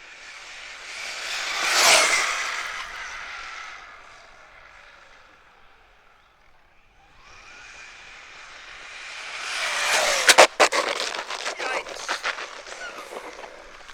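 A Traxxas Slash 4x4 RC car with RPM upgrades whines past twice on a parking lot, its high motor pitch rising and falling with Doppler sweeps, ending with scuffing tire and body noise up close.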